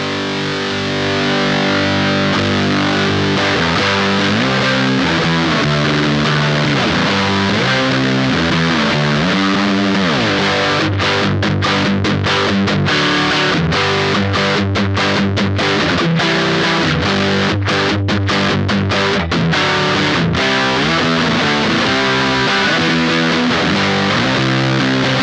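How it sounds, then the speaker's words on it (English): Electric guitar played through an Electric Love Aquatone pedal in distortion mode with all knobs at noon, loud and continuous, with chords and riffs and choppy stop-start strums in the middle section. "let's hear how the Aquatone sounds with everything at noon in the distortion mode"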